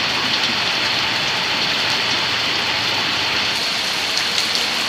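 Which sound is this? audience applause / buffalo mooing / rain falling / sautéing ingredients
rain falling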